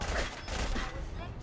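Gunfire in the video game Fallout, a dense loud burst of rapid shots blending into a continuous roar for about a second and a half, with voices faintly mixed in.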